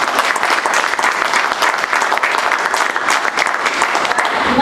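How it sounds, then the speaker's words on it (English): An audience applauds at the close of a 1 Million Cups Madison startup talk, steady dense clapping filling the room at full volume without a break. "Let's give Caitlin one more round of applause."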